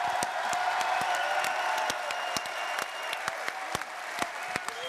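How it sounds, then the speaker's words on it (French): A large crowd at a live political rally claps steadily and continuously, dense sustained applause with scattered sharper claps and faint cheering, close and enveloping. "je vous propose qu'on applaudisse jusqu'à ce que Lyon nous entende"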